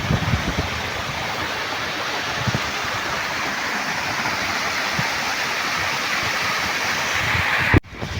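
Vellarimedu waterfall in the rainy season, a loud, steady roar of heavy rushing water close by that fills the whole scene, with no voices and a brief knock near the end.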